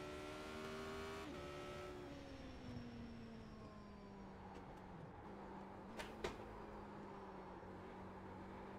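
Engine note of a car in a driving game drops in steps as the gears are shifted down, a steady hum with a few falling tones and two brief sharp clicks near the end, fairly quiet throughout.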